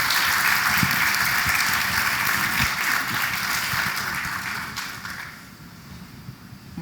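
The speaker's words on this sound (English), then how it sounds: "Please, another round of applause for Kereshu and Dr. Erica." An audience at an ocean summit gives a loud round of steady applause that slowly fades toward the end, with a brief spoken word near the finish.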